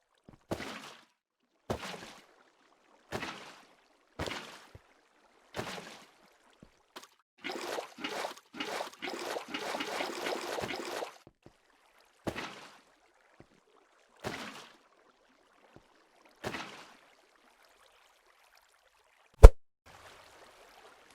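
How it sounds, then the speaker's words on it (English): Water blocks are placed one after another to fill an area on an island in Minecraft, giving a series of short splashing plops with gaps between them and a longer burst of rapid placements in the middle. "I'm going to fill all this in with water"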